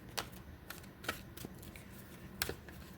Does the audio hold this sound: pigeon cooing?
no